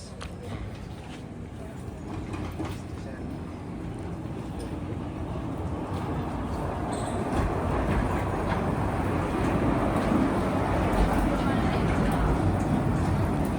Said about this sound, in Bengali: আর এই যে ট্রেন আসতেছে